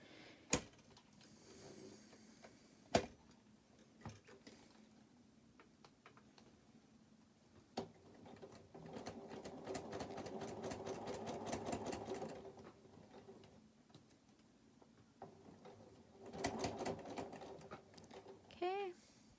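A sewing machine stitches a nylon zipper onto a pencil pouch, running in short mechanical bursts separated by pauses and handling noises, with a couple of sharp clicks and taps along the way.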